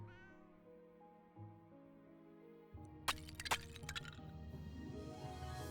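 A cat in a video game meows several times in drawn-out, rising tones, followed by sharp cracking and breaking noises and then a louder, wavering meow near the end.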